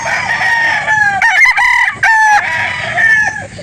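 Several gamefowl roosters crow loudly at a gamefowl farm in Calauan, Laguna, their overlapping cock-a-doodle-doo calls close and continuous, with some clucking in between.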